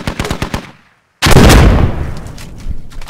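In the Squad video game, an RPG rocket slams into a sandbag wall with a sudden loud, deep blast after a short hush. Sharp gunfire cracks come before it, and rumbling debris trails after the explosion.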